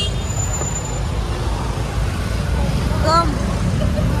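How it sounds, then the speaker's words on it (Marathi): A road traffic jam in Pune during the Ganpati immersion procession: a dense, steady rumble of vehicles with a brief horn-like tone near the end, and voices mixed into the crowded street noise. "सगळं ट्रॅफिक जाम."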